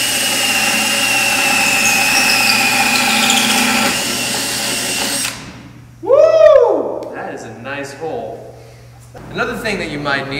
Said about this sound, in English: we're gonna slowly rotate the drill up until it's flush with the lines